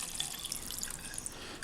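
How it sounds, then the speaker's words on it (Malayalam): Water being poured into ground roasted masala for a Kerala-style chickpea curry, a steady close trickle and drip running throughout with no talking. "ഇപ്പോൾ ഞാനിതിലേക്ക് അരക്കപ്പ് വെള്ളമാട്ടോ ചേർത്തേക്കുന്നത്"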